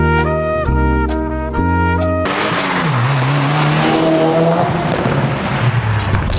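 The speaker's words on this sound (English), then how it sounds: "if you couldn't tell from that exhaust note, I'm in the 2017 Subaru Impreza WRX Limited" A 2017 Subaru Impreza WRX Limited barks through a few sharp revving bursts, then pulls away with a loud, rising, rumbling exhaust note that sweeps upward and settles into a steady drone.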